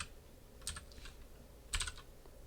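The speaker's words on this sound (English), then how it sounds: "I'm going to type this into the REPL after I reload the file" A computer keyboard tapped in two short bursts of quick keystrokes, faint and close, over a quiet room hum in a lecture setting.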